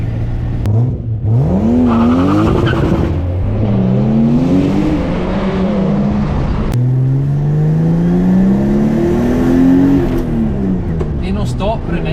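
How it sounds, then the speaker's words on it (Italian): Toyota Supra VVTi engine revving up and down several times, its pitch rising and falling in long sweeps, with someone talking over it inside the car. "il VVTi c'ha un sound che tu arrivi al limitatore e senti pam pam pam pam pam"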